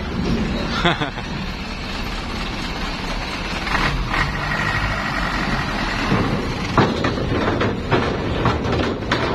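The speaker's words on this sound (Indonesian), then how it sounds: "Oh ini ada mobil mogok, mobil kol diesel." Diesel engine of a Colt truck at a port dock, restarted after stalling and idling with a continuous rough rumble, knocks and clatter mixed with background activity.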